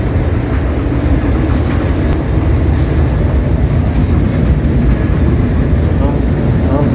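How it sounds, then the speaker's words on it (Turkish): A train rumbles past continuously at close range on the Barcelona–Madrid line, a dense steady roar of wheels and carriages with a faint rhythmic clatter throughout. "Size göstereyim derken tren geçti."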